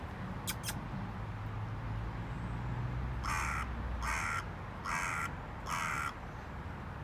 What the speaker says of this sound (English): Where's the crow dude?